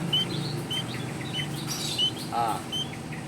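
Emprit kaji (pipit kaji), a young bird kept in a cage, gives repeated short high chirps and tweets over a steady background hum, close by.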